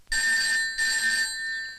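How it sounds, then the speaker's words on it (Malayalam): A telephone bell rings in two loud, close bursts separated by a brief pause, with no voices over it. "ദാ ഫോൺ അടിക്കുന്നു, അതെടുക്കൂ സാർ."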